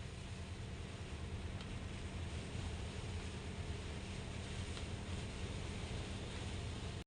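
Heavy rain and strong wind lash a road under construction during a typhoon, a dense, steady roar of rainfall and gusts that holds constant and loud throughout, with no voices.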